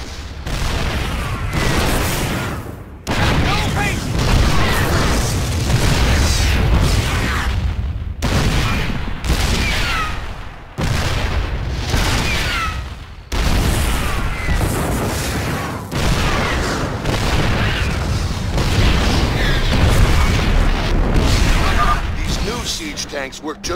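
Heavy booming artillery-style blasts from siege tanks in StarCraft II, loud and continuous, with explosions overlapping a steady roar and talk underneath.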